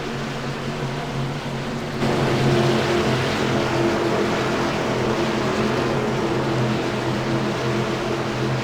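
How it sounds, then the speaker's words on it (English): Sim racing game cars roll behind the pace car at Michigan International Speedway, a steady droning engine rumble that swells slightly louder after two seconds and holds constant, with no talk. "The pace car bringing them around turns 3 and 4."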